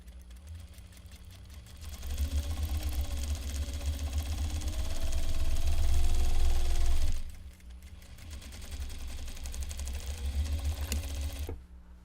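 A sewing machine stitching a triangle pouch project bag runs at a steady motorized hum, speeding up and growing louder midway, then pausing briefly before running again and stopping at the end.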